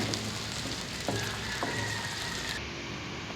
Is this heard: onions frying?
yes